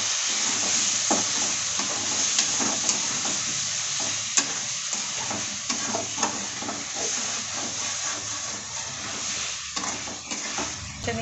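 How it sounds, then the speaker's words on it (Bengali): Potatoes with turmeric and chilli stir-fry in a pan for a Bengali rohu fish and pointed gourd curry, giving a steady close sizzle and hiss broken by scraping stirring strokes throughout. "আলুটা ভালো করে কষে নেব"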